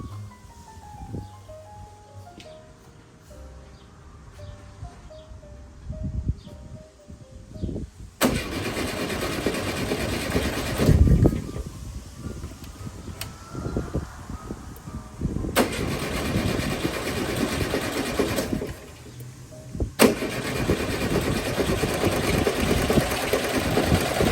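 A VW Beetle engine, just reassembled after carburetor work, cranks and fires up, settling into a loud, steady air-cooled idle with bursts of revving.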